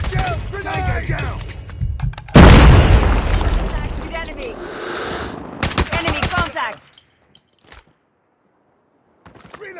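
In Call of Duty Mobile, a grenade blast bursts in loud and near, followed by rapid automatic gunfire that rattles for several seconds. Shouted voice callouts come before and around it, then the sound drops almost to silence.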